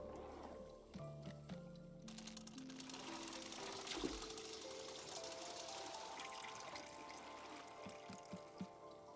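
Water is poured into a container in the video game Wanderstop, a steady bright pouring rush that starts partway in and runs on under light background music, with a brief splash near the middle.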